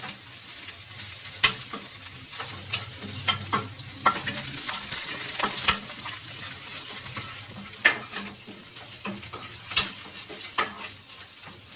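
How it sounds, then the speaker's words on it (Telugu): Egg fry seasoned with chilli powder, salt and curry leaves sizzles steadily in a pan, close up, with frequent sharp clinks and scrapes of a spatula stirring throughout and no talking. "కొంచెం కరివేపాకులు అవి ఉన్నాయి కదా, అవి కొంచెం ఫ్రై అయ్యేంత వరకు జస్ట్ సరిపోతుంది."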